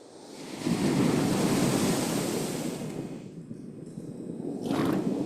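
Edited recording of water sources from a theatre design work, heard as a broad, steady rushing wash like surf that dips briefly and swells again near the end, with no voices.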